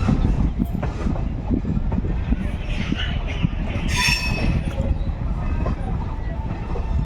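An express train runs past on a curved line near Azimganj City station, a loud, close, continuous rumble of wheels and carriages with a brief sharp wheel squeal midway.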